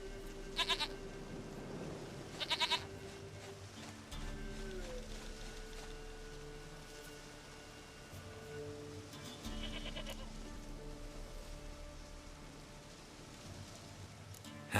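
A goat bleats in The Witcher 3 game, two sharp nasal bleats early and another later, heard over a steady layer of game ambience and tonal music, with no speech.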